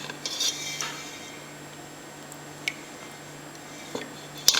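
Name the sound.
spooning thick homemade yogurt into a storage container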